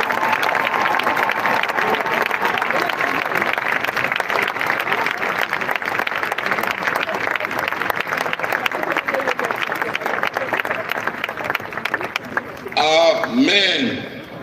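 Congregation applauding during a church service in the Democratic Republic of Congo, steady dense clapping throughout with a cheering or ululating voice rising near the end.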